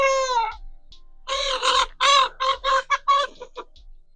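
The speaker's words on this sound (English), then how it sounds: "it's quite a few chickens running around here" Chickens clucking up close, a string of short rhythmic clucks and squawks with one longer drawn-out call at the start.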